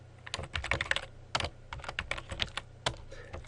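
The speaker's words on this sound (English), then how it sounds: "So I can now go ahead and type my salespeople's names" Typing on a computer keyboard while entering names into an Excel spreadsheet: close, irregular bursts of crisp key clicks with short pauses between words, and no talking.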